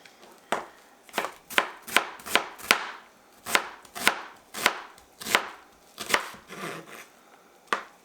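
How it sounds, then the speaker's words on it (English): A knife chops through an onion on a cutting board in about fourteen crisp, evenly spaced strikes, close and clear with nothing else sounding. "it doesn't matter how we cut up this onion, because we just need it diced"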